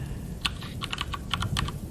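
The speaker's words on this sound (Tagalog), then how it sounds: "Takatak-tak. Iyon ang mabilis na tunog ng keyboard ng computer ni Tony Manorio" Fast typing on a computer keyboard in an office cubicle, a quick irregular patter of crisp key clicks over a low background hum, nearby and with no voices.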